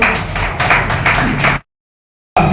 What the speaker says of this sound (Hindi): मैं तालियों के साथ इनका स्वागत करना चाहता हूँ